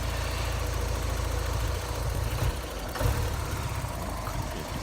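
Porsche 944 engine idling roughly and on the edge of stalling, a close, steady low rumble with uneven dips and a faint surge near the middle.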